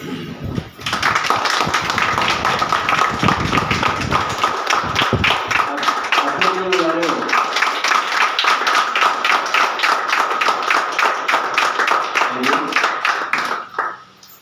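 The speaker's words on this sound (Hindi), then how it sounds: "अपने लिए खड़े होके ज़बरदस्त एक बार ताली बजा लीजिए" A standing audience at a business training seminar claps hard, a dense run of many hands that starts abruptly, holds steady and loud for over ten seconds, then stops, with faint voices beneath.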